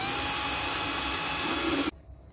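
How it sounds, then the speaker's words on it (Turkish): A loud, steady power drill whine runs for about two seconds while boring holes with a 2 mm bit in a caravan interior, then cuts off abruptly, leaving quiet room noise. "ikilik bir matkap ucuyla deliyorum."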